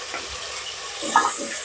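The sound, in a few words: sautéing onions, tomatoes and green chilies in a pan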